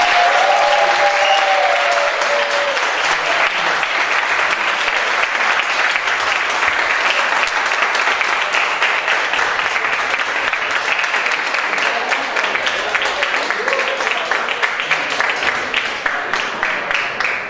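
Sustained applause from a board meeting audience right after a vote passes: dense, steady clapping at even loudness for about eighteen seconds, with faint voices mixed in.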